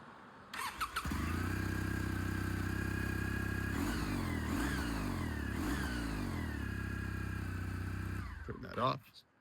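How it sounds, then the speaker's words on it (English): A Kawasaki W800 motorcycle engine cranks and catches, settling into a steady, close idle, then revs up a few times before being switched off. "I will do a little startup on each one of the bikes for you here"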